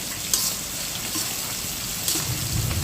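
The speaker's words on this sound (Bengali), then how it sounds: "আর এখানে কিন্তু বন্ধুরা গরম জলটা দেবো" Hot water going into a pan of jackfruit seed curry sets off a steady, close sizzle and frying hiss, with soft stirring scrapes and a couple of brief splashy bursts.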